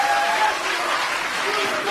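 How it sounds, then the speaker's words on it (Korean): A crowd of supporters at a Korean election victory event applauds loudly and steadily throughout, dense clapping filling the space with a general crowd roar beneath it. "더 큰 박수 부탁드립니다"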